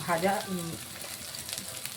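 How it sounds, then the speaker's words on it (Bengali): Ground onion paste fries in a pan for a Bengali katla fish kalia, a soft steady sizzle that continues faintly after a brief burst of clatter at the start. "বাটা পেঁয়াজ আমরা ভালো করে 1 থেকে 2 মিনিটের মতন কষিয়ে নেব"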